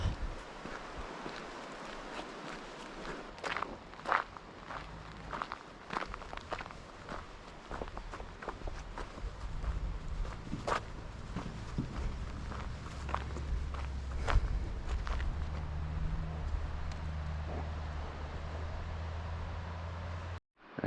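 Footsteps of one person walking at a steady pace on a path toward a water spring at a campsite along the Dempster Highway, faint and close, with occasional louder scuffs and no talking.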